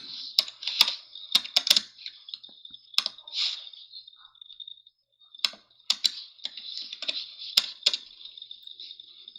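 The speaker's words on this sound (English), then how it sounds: "Hit the keyboard harder, my friend." Rapid bursts of typing on a computer keyboard, close and crisp, with clustered key clicks separated by brief pauses and no talk.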